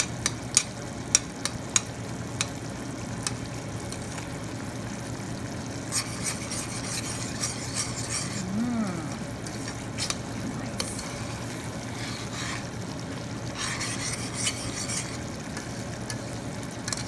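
Tomato chutney with tomato paste stirs and fries in a pan, giving a quiet, steady sizzle with soft scraping stirs and occasional brushing bursts, close and low in level without talk.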